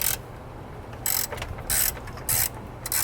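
A hand ratchet loosens a 10 mm nut on a Ram 1500 battery, four short bursts of rapid clicking separated by brief pauses, close and clear.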